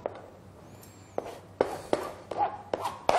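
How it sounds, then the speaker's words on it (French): Chives being chopped with a knife on a board while preparing Creole beef pâtés: about half a dozen irregular, close, crisp knife taps after a quiet start, with no talking. "On va hacher la ciboulette."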